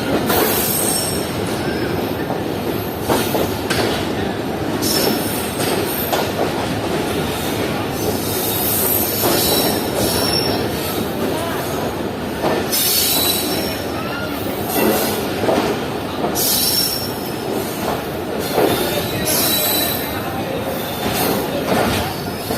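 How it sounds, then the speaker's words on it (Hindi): Train wheels squeal and rattle continuously near platform 2 at a Pakistani railway station, the loud metallic screeching and clatter of rolling rail cars persisting throughout with station bustle beneath. "देखते हैं ये कौन सी ट्रेन खड़ी हुई है प्लेटफॉर्म 2 पर।"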